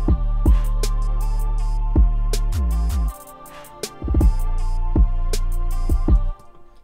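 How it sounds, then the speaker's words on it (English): An unmixed rap beat playing loud and unbalanced, with heavy sustained 808 bass notes, sharp regular drum hits and hi-hats, and a short drop in the bass midway before the full beat returns. "So this is our unmixed beat here."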